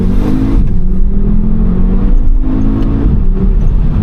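A 2014 Audi RSQ3 compact SUV with a 2.5-liter turbocharged five-cylinder engine pulls hard through the gears, a loud steady growl rising in pitch with brief drops at two shifts, heard from inside the cabin.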